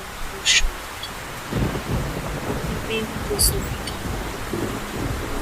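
Rain and thunder sound effect in a Bengali horror audio story, a steady wash of rain with low rumbling swells and a few sharp crackles, under a narrating voice.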